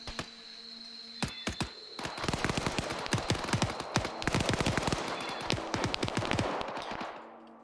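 Gunfire in the military video game Arma, with a few isolated shots at first and then a sustained run of rapid, cracking bursts that continues for several seconds before stopping.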